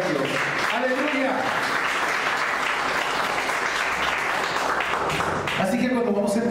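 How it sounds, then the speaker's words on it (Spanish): A church congregation claps steadily in praise to God, a dense, sustained round of applause from a large crowd, with a voice speaking over it at the start and again at the end. "Denle una ofrenda de palmas a Dios."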